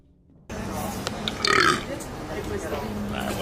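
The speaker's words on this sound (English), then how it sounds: "I burp so often, it's kind of a problem." A person burps loudly, a single rough croaking belch in the middle of an otherwise talk-filled stretch.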